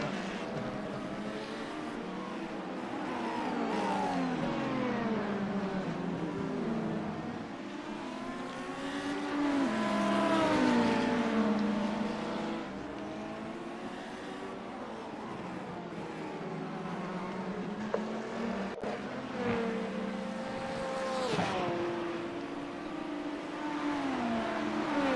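An LMDH prototype race car engine in iRacing at Sebring during a 12-hour endurance race, revving up and down through gears in long sweeping rises and falls, fairly loud and alone.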